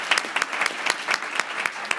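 Audience at a club meeting claps steadily for the people standing up front, with sharp bright hand claps forming a dense, continuous burst of applause.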